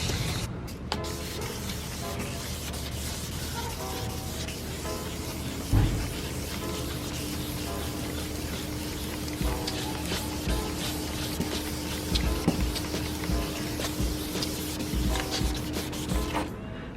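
Wet sanding a 2005 Acura RSX headlight lens by hand with fine-grit sandpaper in circular motions, a steady close rubbing and scraping that runs continuously, with a low hum underneath and a brief knock partway through.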